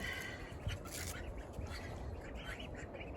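A drake duck gives a few raspy, strangled quacks close by, set against a steady background of ambient noise with brief bird-like chirps.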